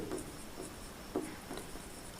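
Chalk or marker on a board, writing out a math solution about the area of a path around a rectangle: short soft scratchy strokes in quick bursts, fairly faint in a quiet room, with no voice.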